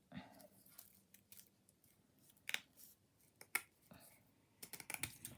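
Scissors cutting paper card for a handmade greeting card, a few sparse, quiet snips and clicks spread out at close range in a calm room, with faint traces of background voice.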